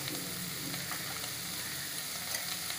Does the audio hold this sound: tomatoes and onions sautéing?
yes